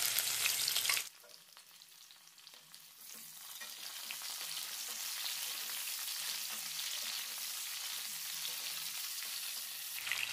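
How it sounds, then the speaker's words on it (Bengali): Cauliflower pieces drop into hot oil for a Bengali cauliflower and potato curry, an abrupt cut from loud hiss into a quieter lull, then a steady, rising bright sizzle of frying that holds to the end. "এবার তেলের মধ্যে একে একে ফুলকপিগুলো দিয়ে দেবো।"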